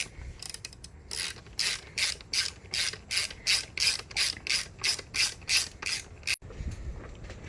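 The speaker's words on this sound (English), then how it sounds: "you're able to tighten them down with your ratchet" A hand ratchet tightens racing seat mounting bolts in a run of about sixteen quick, evenly spaced clicking strokes, close and crisp, with no talking over it.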